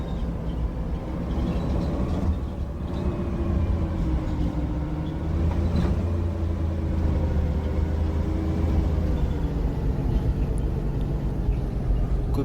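Bus rolling downhill, its engine a steady low drone throughout, close and continuous with a slight shift in tone partway along.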